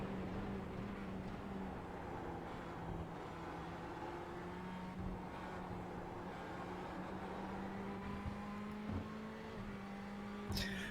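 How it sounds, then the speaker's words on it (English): Ferrari 488 racing engine lapping Spa-Francorchamps in a sim racing game, a steady sustained drone with a soft humming tone, faint and distant-sounding, with brief shifts near the end. "The engine sound of the 488 here at the mountains of Spa-Francorchamps."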